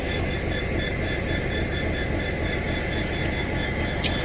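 A loud, steady rumble with a sustained mechanical hum from a train at Beed railway station, continuous throughout with no breaks.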